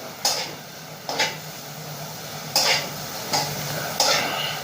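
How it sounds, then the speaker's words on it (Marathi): Lemon juice being stirred into fried chili masala in a pan: five distinct scraping stirs of a spoon, spaced about a second apart, over a faint background, with no talking. "चांगले असे मिक्स करायचं आहे"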